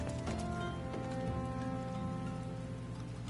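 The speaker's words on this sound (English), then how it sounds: "Ah, it's raining. What a nice, refreshing drizzle we have today." A steady drizzle patters in Final Fantasy XIV, dense and even, with soft game music sustaining underneath the rain.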